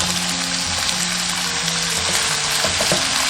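Onion and green pepper hit hot oil in a clay pot with garlic, ginger and shallots, giving a loud, steady, close sizzle with faint background music and no talking.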